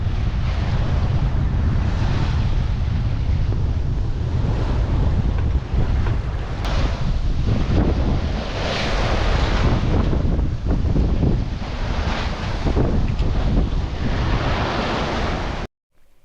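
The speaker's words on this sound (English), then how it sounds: "got a fair amount of wind against tide here, so you can see the seas are fairly lumpy" Strong wind and lumpy, choppy seas against the tide off the south-west corner of Guernsey, heard aboard a sailboat: a loud, continuous roar of wind buffeting the microphone over rushing, slapping water, with no talking.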